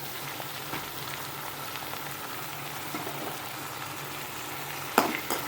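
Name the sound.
green beans frying with onions and curry leaves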